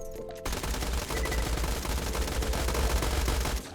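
Rapid, continuous SMG fire in Borderlands 2, a dense hammering stream of shots that starts abruptly after a short quiet moment and runs loud to the end.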